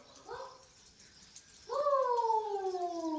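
A cat gives a short, soft cry, then a louder, drawn-out meow follows that slowly falls in pitch; nearby and otherwise quiet, during light drizzle.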